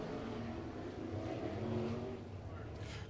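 360 sprint cars race in a qualifying heat at Ohsweken Speedway, their engines merging into a continuous, dense roar that swells slightly and holds steady throughout, heard from a distance.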